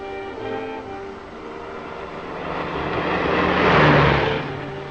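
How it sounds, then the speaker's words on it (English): A car from a 1938 serial drives off through a canyon and into the hills, its engine rumbling steadily and swelling louder toward the end, blended with a dense orchestral music score. "I'm going to move the car out of the canyon so they won't see it."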